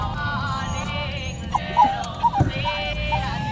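Excited dog whining and whimpering in anticipation of a trip to the dog park, a few high, wavering cries rising in short bursts around the middle, close by over low room noise.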